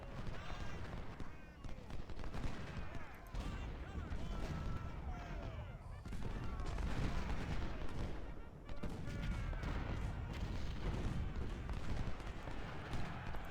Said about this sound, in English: Not happy about taking cannon fire on this 2-star unit